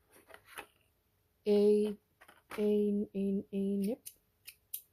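Small nip thread snips from a sewing advent calendar make a few crisp, close snipping clicks alongside several short humming tones.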